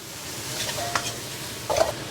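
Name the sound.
stir-frying duck intestines in a wok over high heat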